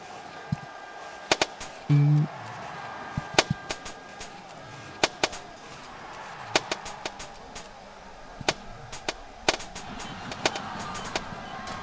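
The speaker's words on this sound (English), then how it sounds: "Shooting from the first shooting box." Rifle shots crack at a biathlon shooting range in the video game Biathlon Champion 2007: a run of sharp, fairly faint single reports spaced out irregularly over a steady low background hum.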